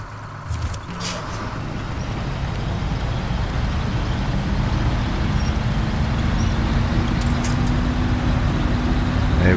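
A heavy truck engine drones steadily as it drives along a muddy road in SnowRunner on the Black River map in Michigan, with a constant low rumble that builds slightly and a brief hiss at the start.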